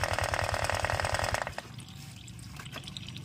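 Coolant poured into the radiator of a Honda Vario 125/150 scooter with a spraying radiator fault: a rhythmic pulsing mechanical sound for the first second and a half, then a quieter, steady liquid trickle.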